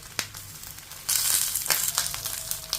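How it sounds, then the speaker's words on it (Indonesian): Unseasoned cleaned fish searing in a non-stick Teflon pan, a close sizzle that swells loudly about midway, with a few sharp clicks and crackles and no talk. "akan kita panggang dulu di atas pan ini sampai agak kecoklatan"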